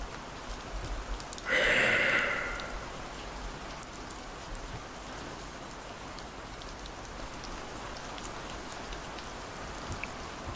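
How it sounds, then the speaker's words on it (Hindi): Steady rain pours outside in a horror video game, a constant hiss of drops on surfaces that runs the whole way through, briefly overlaid by a louder, sharper burst near the start. "अचानक से बाहर बारिश होने लगा"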